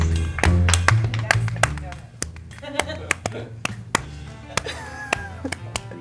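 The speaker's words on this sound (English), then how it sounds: "Keep clapping." Several people clap in loose, scattered bursts that thin out and fade into sparse individual claps, with people talking underneath throughout.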